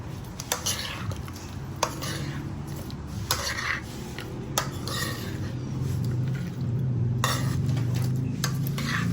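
Shrimp are mixed by hand with a calamansi marinade, giving wet squelching and irregular clinks of a utensil against a bowl, close up, with no talking.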